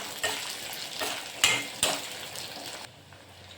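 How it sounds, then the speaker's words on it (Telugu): Grated fresh coconut fries in a pan until it browns, giving a continuous hissing sizzle punctuated by several bright metallic scrapes and taps as it is stirred, close and without voices. "ఇది ఇలాగా మనకు కొబ్బరి కలర్ మారేంత వరకు బాగా వేయించుకోవాలా."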